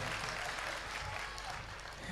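At a Jain temple pratishtha celebration in India, an audience gives sustained, fairly faint applause, a soft even patter of many hands heard from some distance.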